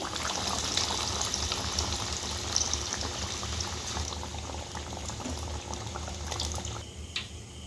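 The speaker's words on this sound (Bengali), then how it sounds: "এইভাবে আমি একে একে সব কটা ভেজে নেবো" Chicken cutlets deep frying in oil, a Kolkata-style recipe, with a dense bubbling, roiling sizzle that holds steady and close, dropping slightly near the end, no voices.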